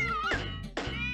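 A cat meows twice in quick succession in a Poppy Playtime comic, close and clear, with no other sound around it.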